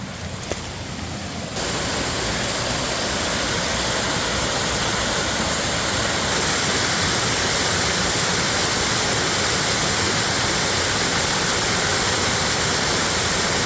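Miners Run Falls in the McIntyre Wild Area pours in a steady broadband roar of falling water, growing slightly louder after the first moments and holding constant throughout, with no voices.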